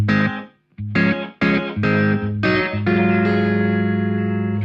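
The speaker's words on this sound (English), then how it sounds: "Let's move on to dual reverb." An electric guitar plays a series of chords and notes through a Boss RV-500 set to dual reverb; several struck chords in quick succession, the last one sustaining into a ringing wash, loud and alone.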